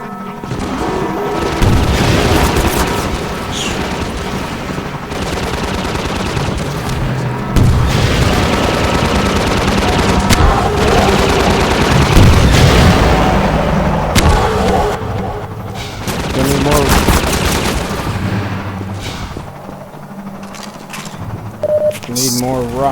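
A Half-Life 2 combat gunship attack with heavy rapid gunfire, booming explosions and bursts of machine-gun fire, loud and close, with voices shouting over the continuous battle.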